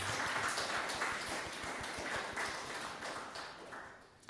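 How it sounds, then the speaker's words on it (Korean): A church congregation at a Sunday Easter-season service in Darmstadt gives welcoming applause for members back from Korea. The clapping is soft and rather distant, holds fairly steady, then tapers away near the end. "우리 환영의 박수 드리겠습니다."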